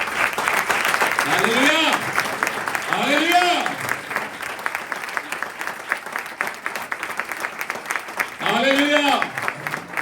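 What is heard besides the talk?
church congregation applauding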